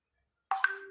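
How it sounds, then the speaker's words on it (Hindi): An incoming call sets a phone ringing. The tonal ring starts abruptly after a half-second of silence and holds steady to the end, clear and moderately loud with no voices over it. "एक फोन आ रहा है कंटिन्यूसली"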